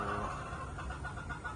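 Quiet, steady clucking from a small group of blue-legged and green-legged hens, a short low murmur heard close by without any voices.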